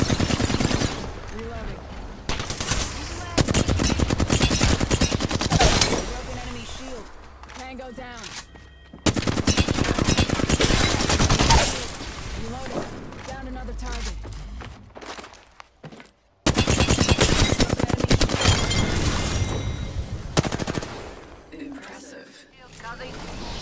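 Dense, loud bursts of rapid automatic gunfire from an Apex Legends match, with short pauses and sudden restarts, and a voice talking over the shooting.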